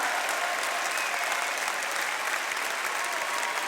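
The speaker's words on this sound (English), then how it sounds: "Everybody give a round of applause." Audience applause at a public speaking event, a dense, steady wash of clapping from a large crowd that holds evenly for the whole stretch, with no voices rising above it.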